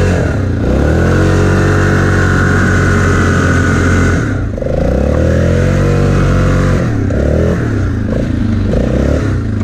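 Yamaha Grizzly 660 ATV engine revving hard in snow, loud and close, rising and falling through several throttle bursts with a brief dip in the middle.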